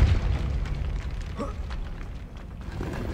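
A Depulso force spell is cast in the Hogwarts Legacy video game, giving a loud, booming magical burst with a rushing impact that trails off over a few seconds.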